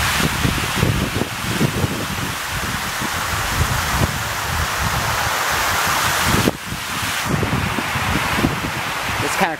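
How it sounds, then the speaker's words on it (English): A loud outdoor waterfall roars in a steady, dense rush close by and nearly drowns out a voice speaking faintly beneath it. "there's a waterfall over here."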